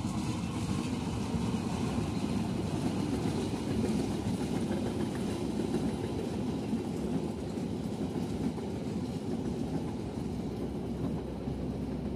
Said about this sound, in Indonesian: Nah, itu dia kereta api Argo Parayangannya.